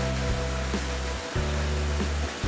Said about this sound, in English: and we run behind the waterfall.